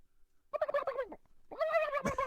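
Two bursts of loud turkey gobbling, close by, a rapid warbling cackle that stops briefly and then comes back stronger.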